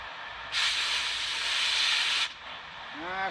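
An oxy-fuel torch hisses steadily for under two seconds while heating the edge of a drilled hole on a 1978 Silver Anniversary Corvette rear wheel bearing job, then cuts off abruptly, leaving a faint trailing tone.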